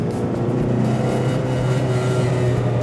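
A 90-horsepower Geo Storm, a 1990s compact car, accelerating on the road, its engine a steady, close, smooth hum with a low rumble that holds even throughout.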